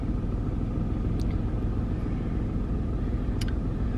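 A small car sits idling, its low, steady engine rumble filling the cabin evenly throughout with no speech over it, only a couple of faint high ticks.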